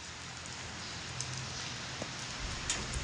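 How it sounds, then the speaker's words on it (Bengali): Steady, soft patter of light drizzling rain beside a road in Saudi Arabia, a continuous gentle hiss with a few faint drip ticks, no voices. "বৃষ্টি কিন্তু গুড়ি গুড়ি পড়তে আছে"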